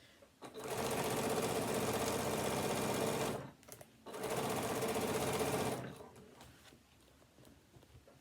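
Two close, loud runs of a sewing machine stitching along the edge of a fabric tablet holder, each a few seconds of rapid even chatter separated by a short pause, with quiet handling noise afterward.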